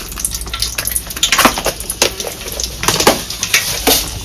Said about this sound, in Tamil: நம்ம இப்போ வந்து கடாயில எண்ணெய் ஊற்றி வச்சிருக்கிறோம்.